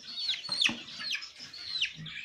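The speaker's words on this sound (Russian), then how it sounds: "Вот нормальные цыплята растут, развиваются." Young chicks and chickens in a shed, fed on millet, give a steady run of high chirping calls and clucks. The calls repeat every half second or so at close range with no talk.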